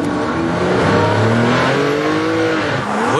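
The unique Ferrari P4/5 sports car revs hard on a track, its engine note climbing and falling in loud, close sweeps of roaring acceleration with no pause.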